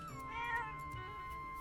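A single drawn-out meow from a cat in the Zelda: Echoes of Wisdom video game, close and clear over quiet game music.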